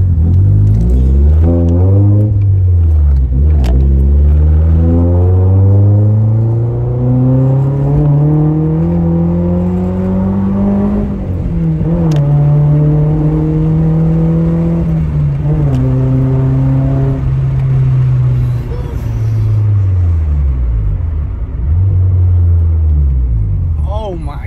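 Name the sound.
Nissan S14 with new Japanese exhaust revving loudly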